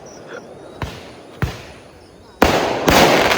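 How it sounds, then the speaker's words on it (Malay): Firecrackers set off at a neighbouring campsite at night: two sharp separate bangs, then a louder burst of crackling that keeps going to the end, heard from moderate distance. "Malam ni campsite sebelah ada bakar mercun."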